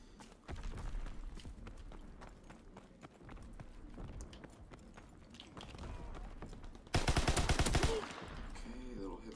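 Gunfire in the trench combat of the video game Call of Duty WW2: rapid clattering shots and bursts throughout, with a loud sustained blast of fire near the end, mixed with game noise.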